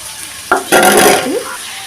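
Chopped onions hit hot oil in a pan with a sudden loud sizzle, followed by a stirring scrape and steady frying crackle, close by and with no talking.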